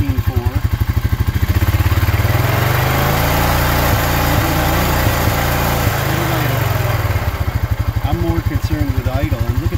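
The engine of a Honda Rancher ATV with a dead battery idles loudly and close by in a steady, throbbing pulse. The rhythm wavers slightly over about ten seconds, with no voice heard over it.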